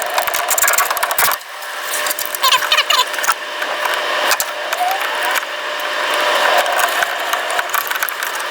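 HVAC line fittings being crimped with a crimping tool, giving repeated close mechanical clicks and ratcheting squeezes over a steady background hiss, with a brief quieter gap early on.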